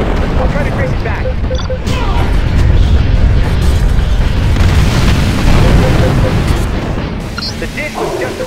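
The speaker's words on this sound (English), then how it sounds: "More missiles!" Missiles explode in The Incredible Hulk PC game, a continuous loud barrage of booming blasts and rumbling debris that runs the whole way through, with voices speaking over the chaos.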